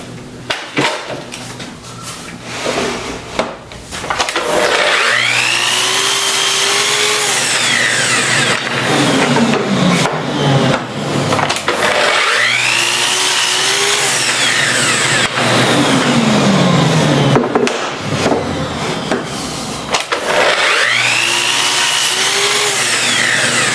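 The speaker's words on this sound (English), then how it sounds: "So that the saw will only cut about 3/8 of an inch deep." A power saw cutting tenons for custom wooden gates, set to cut about 3/8 inch deep, roaring loudly and continuously through three long passes, each with a rising and falling whine as the blade moves through the wood.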